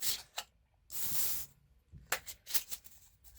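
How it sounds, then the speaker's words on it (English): Tarot cards shuffled by hand during a reading, heard as a few short, crisp riffling bursts separated by brief pauses, close and fairly quiet with no talking. "I am going to shuffle some more."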